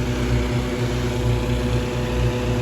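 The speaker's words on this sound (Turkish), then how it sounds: "Şu an duyduğunuz sesler balonlar şişiyor." Steady, loud roaring hum of hot air balloon burners as balloons are inflated at a Cappadocia launch field, a continuous low rumble with no pauses and no speech.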